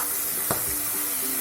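Ginger paste hits hot oil in a pan while cooking cabbage, producing a steady close hiss with a brief louder sizzling burst about halfway through, no voices.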